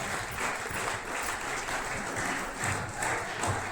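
Loud applause from a large audience at a company meeting, steady dense clapping that holds throughout with a slight swell near the end.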